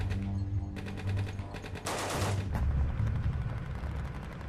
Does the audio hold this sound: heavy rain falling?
no